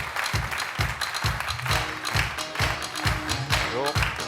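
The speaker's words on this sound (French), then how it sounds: "Un tonnerre d'applaudissements pour notre pro national" Crowd applause with steady clapping, mixed with low thumping beats and a voice talking over it.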